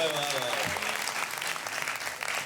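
An audience applauds at a humorous mushaira at Jashn-e-Adab 2023. Dense, continuous clapping fills the hall from start to finish, with a voice briefly audible under it at the beginning.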